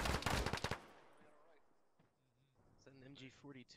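A rapid burst of close automatic gunfire in an Arma military shooter game opens, then fades; someone speaks over the later part.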